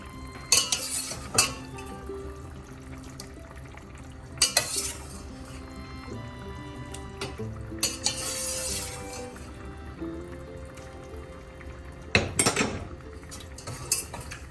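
A utensil stirs kozhuva fish curry in a metal pot, giving scraping clinks and clatters in a few loud bursts with quieter stirring between them, close and with no talking.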